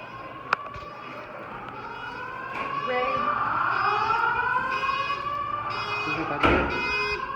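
A school fire alarm wails loudly and continuously, its pitch sweeping up and down, with a sharp click just before it starts building.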